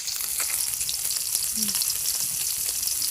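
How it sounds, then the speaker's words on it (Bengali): Small puti fish (chirai) fry in a pan with a steady, dense sizzle that stays even throughout, close and moderately loud, with no talking. "এটা পুঁটি মাছের চিরাই মাছ এটা আগে ভাজি করতেছে"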